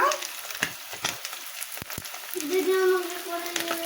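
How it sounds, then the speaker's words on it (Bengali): Pabda fish fry in oil with a soft crackling sizzle and scattered pops, building into a steadier, louder sizzle over the last second or so. "পাবদা মাছ সুন্দর করে ভেজে নিলাম"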